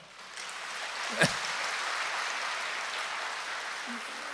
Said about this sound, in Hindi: बड़े जोर से ताली बजाओ